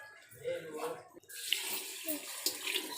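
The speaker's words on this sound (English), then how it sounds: "So for 3 glasses of rice, I'm going to add 5 glasses of water." Water poured from a glass into rice in a cooking pot for a vegetable pulao, a short splashing rush that swells after a brief pause, close and without talk.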